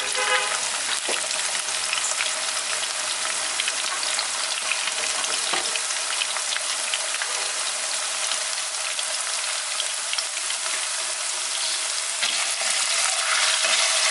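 Potatoes fry steadily in a pan with turmeric and salt, browning over medium heat; a dense, continuous sizzle fills the whole stretch at close range, broken by an occasional stir.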